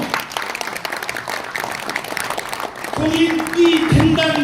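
Audience at a year-end concert applauds in a dense, even patter of clapping for about three seconds, then a sustained tone and voices come in over the fading applause.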